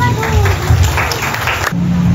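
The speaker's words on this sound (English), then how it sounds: "Let us give her a round of applause." A crowd claps in a dense patter for about a second and a half at a completion ceremony, with a voice and a steady tone sounding alongside.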